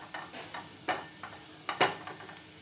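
Vegetables sautéed in masala in a pan for paneer masala: a soft sizzle with several sharp spatula stirs and scrapes, close and otherwise quiet.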